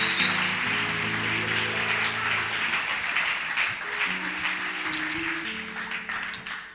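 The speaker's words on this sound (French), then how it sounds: "Nous acclamons très bien le Seigneur." A church congregation applauds and cheers for a pastor in steady, dense clapping that fills the room, with sustained musical tones underneath and some voices mixed in throughout.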